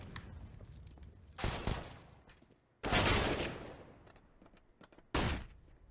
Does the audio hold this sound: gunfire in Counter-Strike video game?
yes